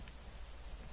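Heavy rain from the video game AI: The Somnium Files pours steadily onto hard surfaces, a thick, close wash of patter over a deep rumble, with no voices.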